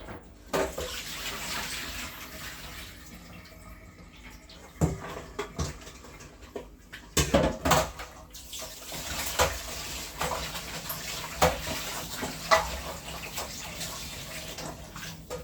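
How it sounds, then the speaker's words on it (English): Tap water running over oxtail being rinsed in a sink, a continuous splashing rush with bursts and clatters of the meat being handled, close and without talk. "So now I'm going to be going ahead to rinse it off again and to get it seasoned."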